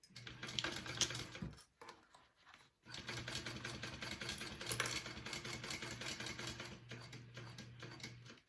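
A sewing machine top stitching a seam on a fabric bag, its needle running in a fast, steady mechanical chatter with a low motor hum, pausing briefly near the start before resuming for a long continuous run.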